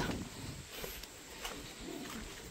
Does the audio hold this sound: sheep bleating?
no